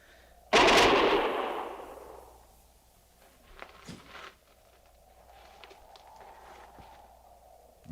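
A single heavy gunfire blast from an old time radio western drama, loud and booming with a long fading rumble, followed by quieter scattered noises and a low steady hum.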